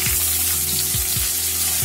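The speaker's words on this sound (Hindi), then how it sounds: "इन दोनों को तब तक भूनना जब तक ये पूरी तरह ब्राउन नहीं हो जाते" Chopped garlic and ginger fry in oil for a broccoli dish, a steady close sizzle with a few soft low thumps, no voices.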